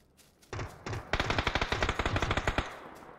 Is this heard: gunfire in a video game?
yes